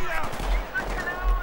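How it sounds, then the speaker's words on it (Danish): Gunfire in the video game Battlefield 3, a dense burst of shots lasting just over a second, moderately loud and with no speech over it. "Før jeg begynder at blive skudt på."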